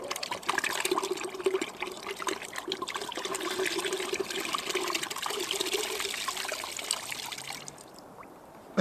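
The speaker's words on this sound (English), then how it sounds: "To swirl the bottle around so the water creates a cyclone effect, then you pour it down." Water pouring from an upturned, swirled bottle in a vortex, a steady close trickling and gurgling stream lasting several seconds before it tapers off at the end.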